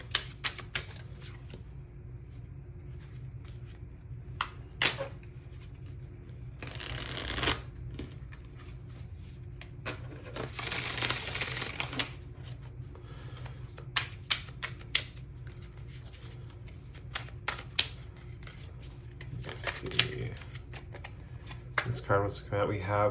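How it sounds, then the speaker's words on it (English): Tarot cards riffled and shuffled by hand at close range, a run of crisp flicking and snapping bursts with two longer swishing riffles, over a low steady background hum and occasional speech. "Then I think what we're going to do is get some tarot cards."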